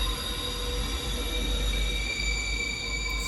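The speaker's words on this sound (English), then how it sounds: "train." A train rolls past close by, its wheels squealing on the rails in long sustained metallic tones over a steady low rumble, loud and continuous with no talking.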